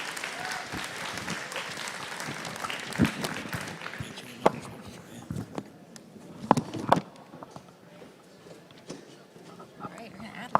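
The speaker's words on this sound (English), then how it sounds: "So let's give Sam here one more big round of applause." A round of applause from the audience at a farm show, dense at first and gradually thinning into scattered claps, with a few sharp close knocks and some talk near the end.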